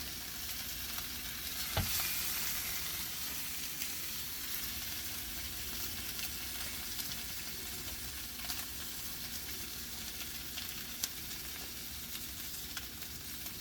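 French toast sizzles on a hot griddle in a faint, steady fry, with one brief sharp tap near the start and no talking.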